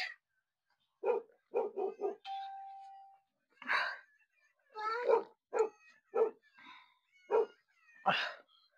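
A dog barks close by in a string of sharp, separate yelps and barks, about a dozen over several seconds, with one brief sustained tone partway through and quiet gaps between bursts.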